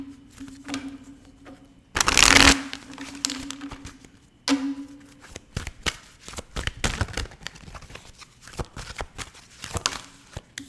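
Tarot cards shuffled by hand, a loud burst of riffling near the start followed by softer, scattered flicks and taps of cards being handled, close and with no talk.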